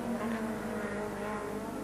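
The leading touring car in the 1989 Sandown 500 motor race roars past at close range, its engine loud and steady with a harsh droning tone through the brief moment.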